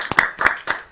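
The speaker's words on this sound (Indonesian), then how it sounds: "Tepuk tangan." A few quick bursts of clapping from a small audience for Bapak Antoro, a city legislator in Yogyakarta, uneven and brief, close by with no talking.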